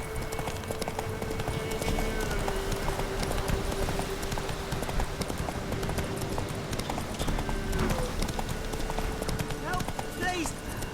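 Roach, the horse in The Witcher 3, gallops with a steady, rapid clip-clop of hooves under continuous game ambience, and a brief whinny comes near the end.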